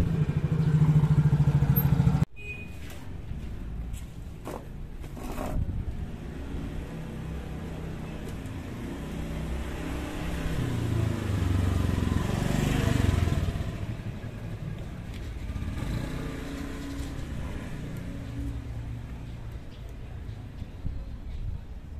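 A Yamaha Mio scooter engine being started and left running, a steady mid-pitched idle with rattling clatter after a sharp start at the beginning, fairly close and continuous throughout.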